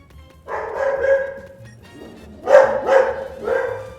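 A dog barking, a few loud close barks in two bursts with a brief pause between them, with faint background sound underneath.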